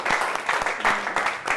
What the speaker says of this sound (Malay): Beri tepukan kepada kawan-kawan kamu.